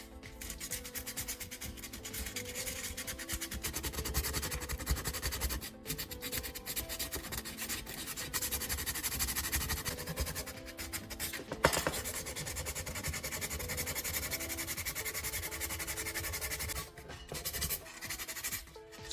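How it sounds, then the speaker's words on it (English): Sandpaper worked by hand around the edges of drilled holes in an empty metal spray paint can, a steady close rasping and rubbing that runs almost without pause, with a brief break near the end. "take a piece of sandpaper and work around the edges of both drilled holes"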